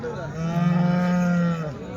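A single long, low cow moo rises and holds steadily for over a second before fading, loud and close, at a weekly cattle market in Chintamani.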